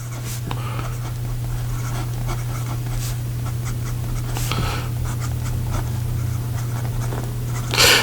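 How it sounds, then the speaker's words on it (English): Nib of a Visconti Homo Sapiens Midnight in Florence fountain pen with a medium 23 karat palladium nib scratching across paper, faint intermittent strokes over a steady low hum. "the writing sample for the Visconti Homo Sapiens and this is called Midnight in Florence"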